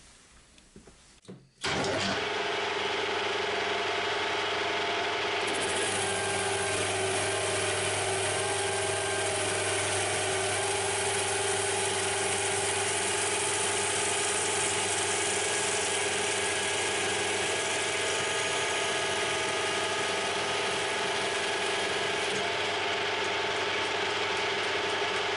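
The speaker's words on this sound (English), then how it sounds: "try and get a better shot of the actual machining of the parting off, and we're going to try this one a bit faster" A metal lathe starts up and runs steadily at 800 RPM while parting off a part, a continuous close mechanical whine and hum with no talk over it.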